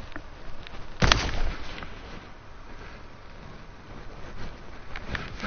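Gunfire in Fortnite: a loud nearby shot or burst followed by fainter, scattered shots over a rumbling game background, with no talking.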